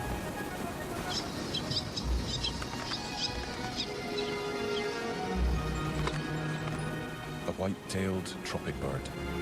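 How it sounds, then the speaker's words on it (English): Seabird colony on Ascension Island with white-tailed tropicbirds calling: repeated shrill whistling cries over a dense, busy wash of bird noise, with a voice talking over it. "White-tailed tropic bird."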